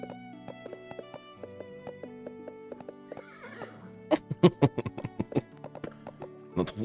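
A horse whinnies in a long, high, shaky call in the game Storm Horse Simulator, followed by a quick run of clopping hoofbeats over a steady synthetic game-music background.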